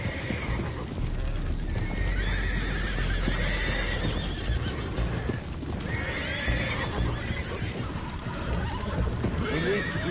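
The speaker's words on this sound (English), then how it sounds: "I have the horses under control." Horses in Red Dead Redemption 2 neigh and whinny repeatedly while hooves clip-clop and shuffle on deck boards aboard a boat, under a constant bed of noise with voices mixed in.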